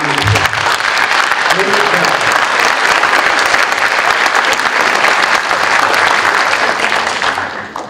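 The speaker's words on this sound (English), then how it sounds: "Can we give everyone a round of applause?" Audience at a middle school academic honors awards ceremony gives a long, steady round of applause, dense clapping filling the hall for nearly eight seconds after a voice briefly speaks.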